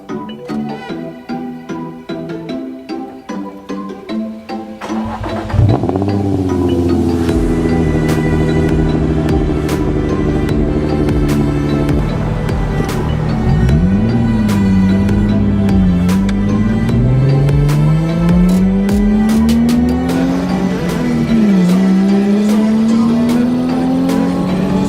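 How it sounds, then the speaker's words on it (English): A Nissan Z car engine cold-starts with a cranking starter, catches loudly, then settles into a high idle with rising and falling revs, close and alone. "Let's do a cold start."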